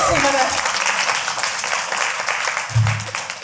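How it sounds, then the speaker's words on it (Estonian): A crowd at an outdoor reunion applauds a woman named Katre with a sustained roar of clapping, while a voice talks over the start and a low thump cuts in near the end. "Nii et teeme Katrele aplausi"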